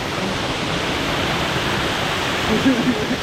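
Beeman waterfall in the Jawathu Hills of Tiruvannamalai, Tamil Nadu, runs strongly after rain, a dense, unbroken roar of falling water heard close up with no pauses.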